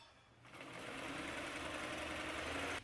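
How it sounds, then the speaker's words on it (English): A sewing machine stitches the pieces of an Edwardian-style skirt together, running at a steady, continuous pace close by for almost the whole stretch before stopping abruptly, with no talking. "it was time to sew the skirt together."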